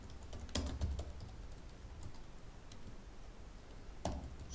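Computer keyboard typing text into code, sparse quiet clicks with a quick cluster of keystrokes early and another burst near the end, close and alone.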